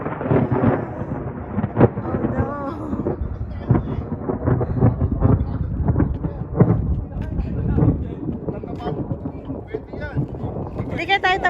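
Rumbling thunder rolls continuously through a storm at an outdoor trailhead, heavy and low with wind buffeting the microphone, as people talk over it.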